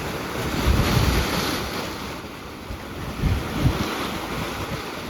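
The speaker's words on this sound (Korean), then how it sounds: "이 파도 소리가 너무 좋아요." Ocean waves roll in on the Jeju coast at night, a broad low surge and hiss of surf mixed with strong wind buffeting the microphone, swelling and easing twice with no voices.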